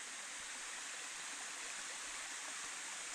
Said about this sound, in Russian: вот непосредственно водопад